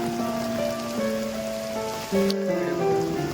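Heavy unseasonal rain in the Konkan during a sudden storm pours in a steady, dense hiss on surfaces, with a few tonal lines drifting over it throughout.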